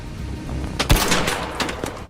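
Gunfire from the video game ARC Raiders: a few loud, sharp shots crack in close succession over a steady background rumble of game ambience, with no talking.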